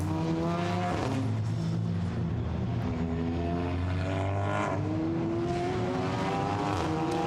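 SEAT Leon Eurocup race cars on a formation lap at the Nürburgring approach the chicane, several engines droning steadily with overlapping rising and falling pitches, loud and continuous without any talk.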